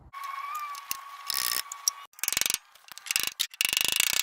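A bolt being worked loose from the steering column knuckle of a 1964 MGB during restoration, heard as close, quiet ratcheting clicks in several short bursts with brief pauses, preceded by a faint whine.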